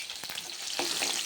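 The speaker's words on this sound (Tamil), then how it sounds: "எண்ணெயில் பொரியுது." Small onions frying in hot oil for a drumstick kuzhambu, a steady close crackling sizzle that runs throughout, with a couple of sharper pops.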